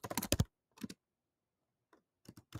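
Bursts of clicking keystrokes on a computer keyboard while a terminal command is typed, with a dense flurry of taps at the start, a short burst, a lone click, then a final cluster, fairly close.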